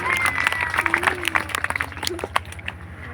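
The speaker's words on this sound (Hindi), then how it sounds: "मुकेश भैया, दिलीप भैया, रामदास शाह के भैया, सभी भाइयों के लिए जोरदार ताली होनी चाहिए।" Audience at a Hindi Buddhist religious storytelling gathering claps in brief, uneven bursts, with voices and a held tone carrying over the clapping.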